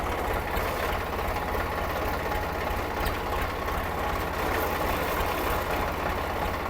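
Steady, loud low rumble of a tractor engine running continuously with an even throbbing pulse, close by and unbroken while the driver puts it in gear.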